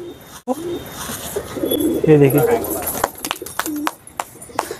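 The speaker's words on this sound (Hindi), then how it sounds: "दोस्तों कबूतर शौक से खा रहे तो खिलाते दोस्तों इनको" Pigeons eating biscuits coo softly nearby, with light fluttering and pecking sounds, while someone speaks briefly over them.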